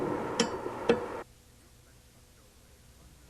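Two sharp clicks about half a second apart from the fuel shutoff solenoid of a Bosch VE diesel injection pump switching on and off, then near silence with a faint hum.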